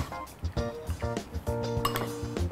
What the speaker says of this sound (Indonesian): kita aduk dulu.